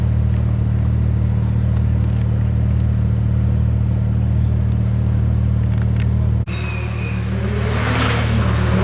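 A Ford Fiesta ST at the Brighton Speed Trials gives a loud, steady engine drone with a strong low hum, then cuts to a harsher, brighter roar as the car pulls away nearby.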